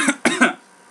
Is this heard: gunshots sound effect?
no